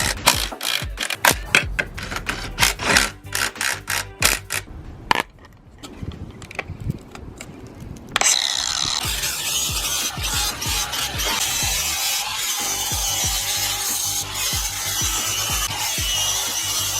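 Grease being wiped and rubbed off the seat tracks of Subaru seats fitted into an S10 Blazer, a run of close, uneven scrubbing strokes that gives way after a pause to a steady, continuous rubbing hiss.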